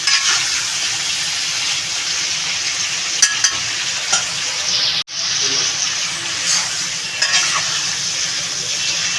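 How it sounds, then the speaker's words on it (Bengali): Cauliflower and prawns frying in a pan with salt, producing a loud, even sizzle with occasional light utensil clicks and a momentary cut-out partway through. "এখন আমি এটা ভালো করে ভাজবো"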